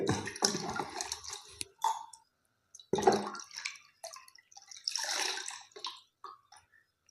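Water is poured into a stone pot (kalsatti) in several close bursts of splashing and gurgling, separated by brief pauses.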